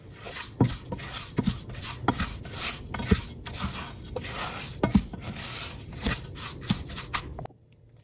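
A spoon stirs sugar into a pudding mixture in a pot, giving soft scraping and occasional clinks against the pot in an uneven rhythm, close and fairly quiet, stopping near the end.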